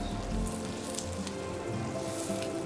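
Onions sweat in a hot pan, a soft, steady sizzle with light crackling and occasional brighter spits, heard close and alone.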